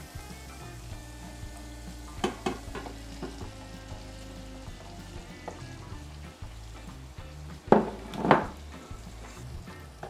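Fish goes into a pan of hot vindaye spice mix for a Mauritian fish vindaye, giving a steady close sizzle with scraping stirs and a couple of louder clacks of the utensil against the pan.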